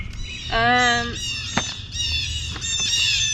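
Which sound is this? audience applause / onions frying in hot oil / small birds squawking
small birds squawking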